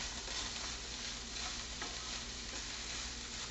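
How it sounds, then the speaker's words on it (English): Taco casserole ingredients with green onions, jalapeno and garlic being stirred together in a pan, giving a steady, dense sizzling hiss with faint scraping throughout. "We're going to mix that all up really good."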